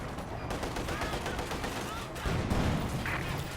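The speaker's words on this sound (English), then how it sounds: "Do have Panzerfaust going off" Panzerfaust anti-tank fire in Company of Heroes 2 breaks out in a burst of sharp bangs and cracks among other gunfire during a busy battle, with a heavier blast near the end.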